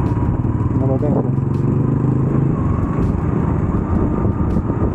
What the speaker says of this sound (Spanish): ¿Qué moto será esa?